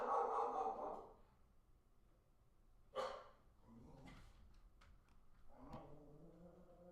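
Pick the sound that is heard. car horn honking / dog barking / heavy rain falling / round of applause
dog barking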